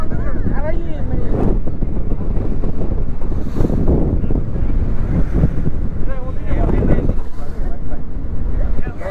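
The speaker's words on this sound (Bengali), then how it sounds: "বাতাসটা একটু কমছে না, এই সাইডে কমছে।" Strong wind gusting across a boat on the Payra river, loud buffeting rumble on the microphone with water and waves beneath and people talking over it throughout.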